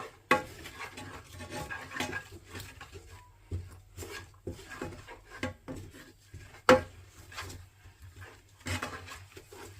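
Chilli chicken masala gets stirred in a pan, with intermittent knocks and scrapes of a utensil against the metal. The strokes come in an uneven rhythm at fairly low volume over a faint background.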